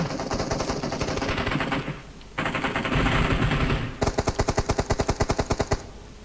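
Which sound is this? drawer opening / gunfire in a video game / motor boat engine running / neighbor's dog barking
gunfire in a video game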